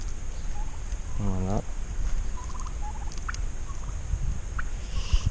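A turkey lets out one short, rapid gobble at middle distance in an outdoor garden setting, with a few faint bird chirps and steady background noise around it.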